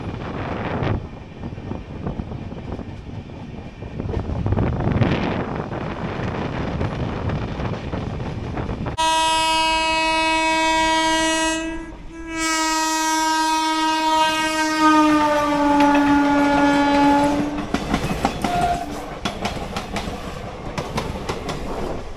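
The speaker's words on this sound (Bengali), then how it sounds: "আর এই মুহূর্তে 5 নম্বর প্ল্যাটফর্মে আমাদের ট্রেন দাঁড়িয়েছে।" A train horn on the Tamralipta Express blasts loudly and holds for several seconds, sounding twice with a short break, over the rumble and clatter of rail cars and wind noise at a station platform.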